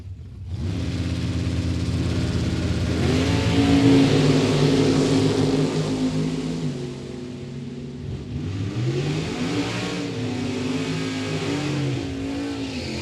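Drag racing at a Michigan dragstrip: a 1994 Chevy S10 and a 1968 Camaro launch and run down the track, with loud, sustained engine roar rising through the gears, a brief dip mid-run and another surge toward the end.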